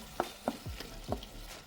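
Shrimp puff pie filling being stirred in a pan, with a few soft scraping strokes and light knocks of a spoon, close and fairly quiet over a faint background hiss.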